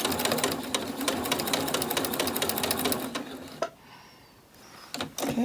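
A sewing machine stitches fabric for a cord keeper in a steady, rapid mechanical whir at close range, then stops abruptly and briefly restarts for a short burst.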